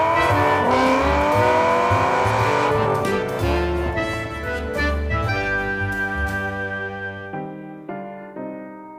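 A Saab 99 car engine drones and revs loudly and steadily, the tone shifting upward as it drives, then gradually fading toward the end.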